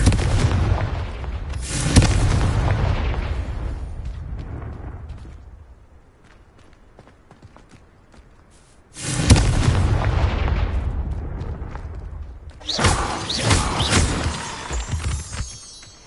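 Confringo blasting-curse explosions in a Harry Potter video game: loud, booming blasts that each roll on for a few seconds, with a quiet gap between the first blast and two later ones.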